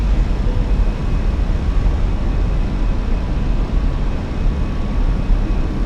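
Fenix A319 airliner climbing out of Atlanta after takeoff in a flight simulator, a steady, loud broadband engine and airflow roar with a strong low rumble, continuous and unchanging throughout.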